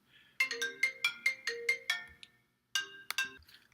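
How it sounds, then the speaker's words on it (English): A phone ringtone plays a bright, repeating melodic pattern of short tones, a run of about eight quick notes followed by a pause and a second burst, fairly clear in a quiet room. "got that phone call answered"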